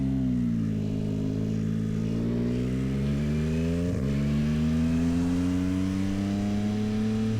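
A Yamaha MT-09 SP motorcycle engine revving in first gear at low RPM. The loud, close, throaty tone dips briefly, then climbs steadily in pitch. No voices.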